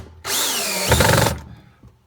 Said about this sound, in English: Now we're just going to get these screws in.